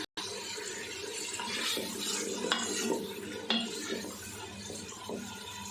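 Steady sizzling of onions, ginger and garlic frying in a pan for kaddu gosht, with occasional clinks and scraping of a utensil stirring, close up.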